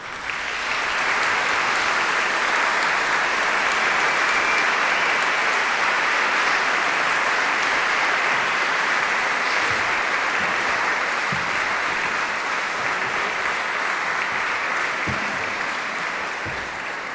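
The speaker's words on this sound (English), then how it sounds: "please give a warm round of applause for Mr." Concert hall audience gives sustained, loud applause as a blues performer is introduced, dense even clapping lasting the whole stretch and tapering slightly at the end.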